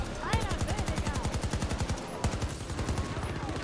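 Rapid automatic gunfire from the video game Battlefield 2042 in Rush mode, sustained bursts with fast repeating shots, loud and close, with a brief pause and another crack before firing resumes.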